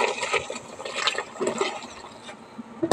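Water left from washing rice is poured into a cooking pot, a close, uneven splashing and gurgling stream lasting a few seconds with no talk.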